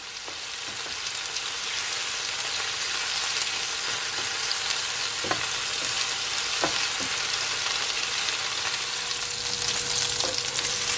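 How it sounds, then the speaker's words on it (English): Chicken pieces frying in a pan for chicken chow mein give a loud, steady, close sizzle that runs unbroken throughout, with a few faint clicks and pops scattered over it and no talking. "Gonna fry it for at least, as I said, 5 to 4 minutes on each side"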